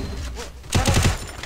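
Gunfire in a shooter video game: after a quieter stretch with faint background sound, a rapid burst of repeated shots erupts and continues loudly, sounding like automatic weapon fire.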